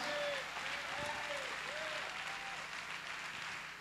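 A church congregation applauding during a service: dense, continuous clapping heard from a distance and fairly faint, with a few thin whoops riding over it.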